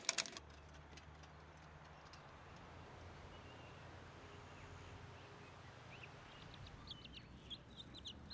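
Laying hens inside a newly built coop give faint, scattered clucks that grow busier toward the end over a low, quiet background hum.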